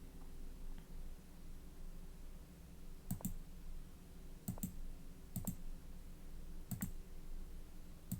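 Computer keyboard keys tapped in short clusters of two or three clicks, with pauses between them, quiet and close over a low steady hum.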